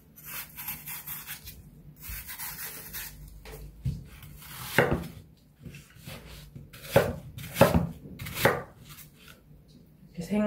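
A kitchen knife chops radish on a board for kkakdugi, Korean cubed radish kimchi, in a run of irregular close thuds and scrapes of changing loudness, with no talk.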